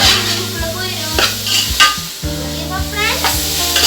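Sugar and soy sauce sizzle in a hot pan as it is tossed, with loud frying hiss, stirring scrapes and metal clanks repeating in short bursts.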